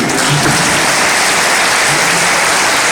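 Dense, loud applause from a large church congregation, a continuous wash of clapping hands for a few seconds.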